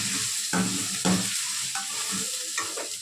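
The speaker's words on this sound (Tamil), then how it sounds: "வெங்காயம் நல்லா வதங்கி ப்ரௌன் கலரில் வந்ததுக்கப்புறம் தக்காளி ஆட் பண்ணிக்கிறேன்" Tomatoes are stirred into onions browning in oil for a sardine fish curry. A steady loud sizzle runs throughout, with several scraping strokes of the spoon against the pan.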